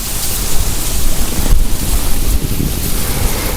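Strong wind roars steadily against the microphone, a loud, continuous rushing noise with gusty buffeting throughout.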